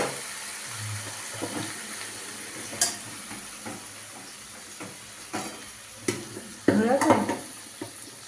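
Water splashes into a hot pan of frying murighonto, a Bengali fish-head and rice dish, with sizzling and stirring scrapes, a few sharp utensil knocks, and a louder burst of hissing toward the end.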